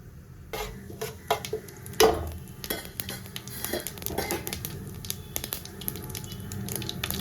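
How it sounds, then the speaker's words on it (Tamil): Mustard seeds and cumin spluttering in hot oil for a quail egg gravy tempering: irregular sharp pops and crackles scattered over a steady close sizzle, with a few louder bursts early on. "கடுகு சீரகம் நல்லா பொரிஞ்சு வரட்டும்"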